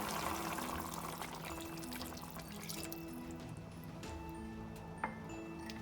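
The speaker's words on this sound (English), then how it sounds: "So I'm going to add some more water," Water, one cup, is poured into a cooking pot, a faint steady trickle and splash heard close up in a quiet kitchen with a small clink near the end.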